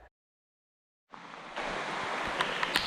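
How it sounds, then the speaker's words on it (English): Heavy rain pours outdoors during a tropical storm in Ohio. After a second of near silence, a dense, steady hiss of rainfall comes in and holds, with a few louder spatters. "As you can see, it's pouring rain."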